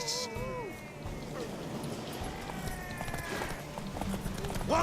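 Horse hooves galloping in a race in The Witcher 3, with rhythmic clip-clop beneath music and game sounds, fairly close and moderately loud.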